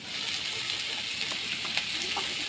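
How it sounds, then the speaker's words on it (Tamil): Chopped tomatoes sautéing in a pan while a dried-fish fry is being cooked, giving a steady, close sizzle and crackle with a few soft stirring scrapes, no talking. "கட் பண்ணி வச்ச தக்காளி போட்டு நல்லா வதக்கி விடுங்க"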